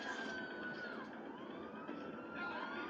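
A wailing police car siren in the video game Car Parking Multiplayer rises and falls continuously at close range, with a faint engine rumble beneath and no talking.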